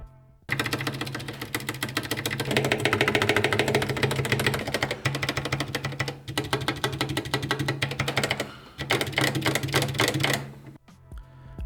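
Stock stabilizers on an Epomaker GK61XS barebones mechanical keyboard tested with a dense run of rapid, close key clacks, steady for about ten seconds with a couple of brief pauses and no talking.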